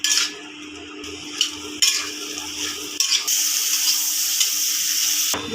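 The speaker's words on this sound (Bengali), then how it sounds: "এখন পটলগুলি ভেজে নিচ্ছি।" Pointed gourd pieces fry in oil in a pan, with a steady close sizzle and clinks and scrapes of a utensil stirring them. No voices are heard.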